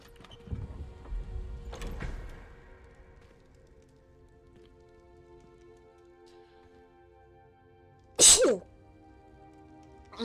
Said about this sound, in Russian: Ой, сейчас как чихну.